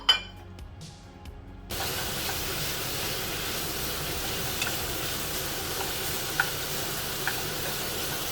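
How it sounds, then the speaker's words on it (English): Bacon frying over medium heat, a steady broadband sizzle that kicks in after a quieter start with a few clinks, then holds evenly with occasional small pops. "cook bacon at a medium heat."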